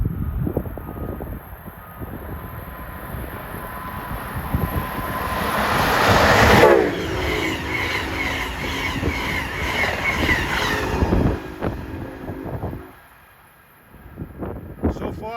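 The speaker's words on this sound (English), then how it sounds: "At 11:41 is Amtrak 86 from Richmond Main Street Station to Boston" Amtrak train 86, bound from Richmond to Boston, rolls past at Princeton, its rumble swelling to a loud peak midway with sustained tonal blasts before fading to near quiet.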